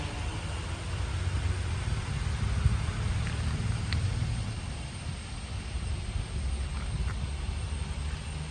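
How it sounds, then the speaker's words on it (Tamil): Heavy monsoon rain pours down in the Agumbe rainforest at night, a dense, steady hiss that carries on unbroken and fairly loud with no voices. "ஸோ 8:30 மணிக்கே அகும்பேல இவ்வளோ மழை அடிக்குது"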